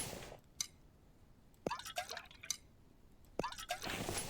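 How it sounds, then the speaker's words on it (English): Dirty water being collected in The Infected survival game, a few soft drips and liquid splashes repeating at intervals over a quiet background. "Let me get some dirty water from here."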